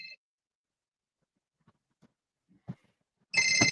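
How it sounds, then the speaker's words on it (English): A phone ringtone goes off during an interview. A clipped electronic chirp sounds at the very start, then near-silence with a few soft knocks, then the ringtone bursts in loud and sustained near the end. "Sorry, my phone went off there."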